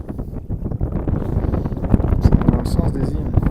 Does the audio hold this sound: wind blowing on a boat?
yes